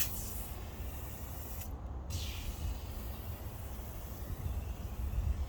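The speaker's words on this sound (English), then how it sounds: "So let's go ahead and spray it on the tire." Aerosol wheel and tire cleaner sprayed onto a car tire, a steady hissing spray over constant background noise with a brief gap in the middle, no talking.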